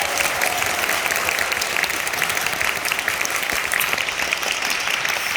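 Audience applause at the curtain call of the Korean musical The Three Musketeers, a dense, steady wash of many hands clapping throughout, fairly close and full, with no voices over it.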